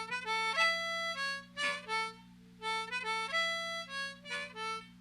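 A-key harmonica plays the opening riff of a song, a bright, clean phrase of short reedy notes in a bouncing pattern repeated several times, over a steady low hum, fairly quiet and alone.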